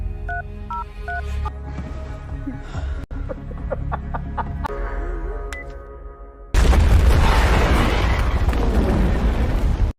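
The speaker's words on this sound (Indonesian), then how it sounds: "memicu ledakan besar" In a film, telephone keypad beeps and clucking give way to a sudden, loud explosion triggered by phone that roars into a sustained rumbling blast through the final seconds.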